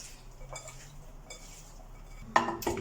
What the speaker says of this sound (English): I've placed my famous frying pan on the stove